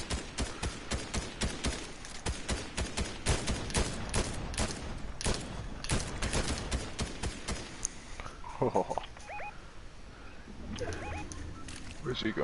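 Rapid gunfire in Fortnite rattles in loud dense bursts for about eight seconds, then gives way to quieter in-game sounds with a few scattered shots and voices talking over it.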